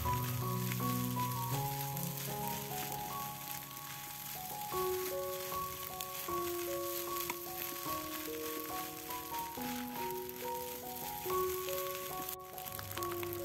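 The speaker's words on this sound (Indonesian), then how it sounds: "Goreng nasi sampai matang dan tanek ya." Rice frying for a village-style Indonesian nasi goreng kampung, mixed with scrambled egg and spices, sizzles steadily and continuously throughout, with a melodic tone running over it.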